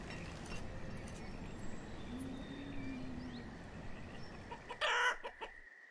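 Chickens in a farm pasture within the Banished town-building game cluck steadily against a dense ambient bed, fairly soft and continuous, with a short louder burst near the end.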